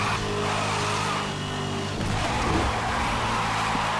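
Car engine in Need for Speed Hot Pursuit revving loudly and steadily, then shifting into a rougher, noisier burst as the car slides through a handbrake drift, all close and continuous.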